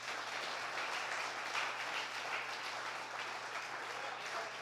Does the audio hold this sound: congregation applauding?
yes